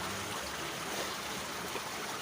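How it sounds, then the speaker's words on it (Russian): Water pours steadily out of a cave beside a waterfall, a continuous broadband rush and gurgle that stays even and close throughout, with no voices. "Отсюда вода вытекает."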